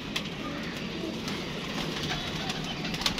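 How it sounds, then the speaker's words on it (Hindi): Soft, low cooing from large pigeons repeats against a faint background hum, quiet and somewhat distant, with occasional light clicks. "ये बड़े बड़े साइज के कबूतर है यार"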